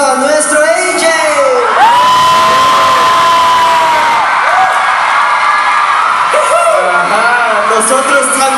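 A concert crowd at a show in Mexico cheers and whoops loudly and continuously, with long high shouts rising above the roar.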